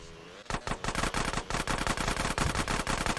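Rapid, continuous gunfire in Grand Theft Auto: San Andreas from a rider on a quad bike shooting at other quads, a loud rattling stream of shots after a brief quieter start.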